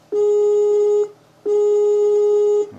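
A Skype call tone sounds from a computer: two long, steady electronic tones of about a second each, separated by a short gap, loud and close with no voices.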